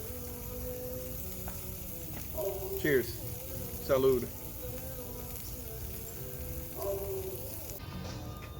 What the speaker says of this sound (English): now I'm frying them on a griddle